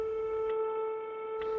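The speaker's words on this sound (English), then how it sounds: "the internal dial tone." Steady internal dial tone of an office phone system reached through DISA mode after CLI authentication, a continuous two-tone hum held for the whole span with a brief dip partway, no voices.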